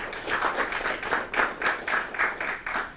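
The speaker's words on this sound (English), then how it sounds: "Can we have a round of applause for him?" Audience applause at a club speaking event, a moderate round of clapping from a smallish crowd with rhythmic individual claps, steady for a few seconds without voices.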